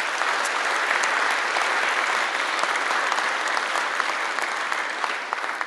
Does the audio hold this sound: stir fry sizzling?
no